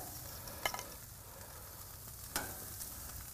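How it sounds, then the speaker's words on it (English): Strip steaks sizzling on a hot Weber grill, a faint, steady frying hiss with a couple of brief crackling pops. "You want to see a good amount of sizzle and smoke."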